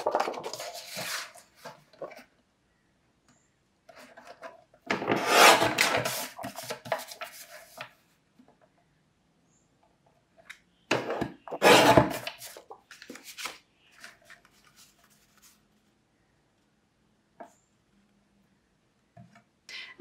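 Paper card stock being cut into 4 x 5.25 inch backgrounds for birthday cards, heard as two separated bursts of close scraping, slicing strokes with quiet gaps and small handling taps between them, no voices.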